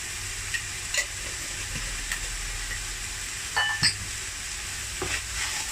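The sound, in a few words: stirring omelette filling sauce in a hot pan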